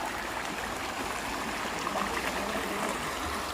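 Shallow stream water flowing steadily on the walking route to an elephant camp in Coorg, Karnataka, a continuous close trickling wash with no speech.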